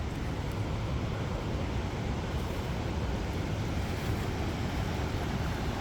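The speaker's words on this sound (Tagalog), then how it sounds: "ang lakas lakas ng tubig dito" Strong floodwater rushes down from the mountain near a dam, making a loud, steady, broadband roar that never lets up, with wind buffeting the microphone throughout.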